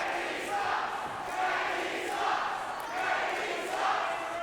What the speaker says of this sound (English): This crowd of the Goodwood Community Centre letting them know, SWAT and Katie Trey, that is, how they feel about them